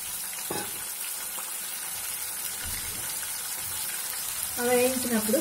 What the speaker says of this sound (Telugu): ఇందులో ఈ రొయ్యలు మనం ఒక 2 మినిట్స్ వేయించుకోవాలి.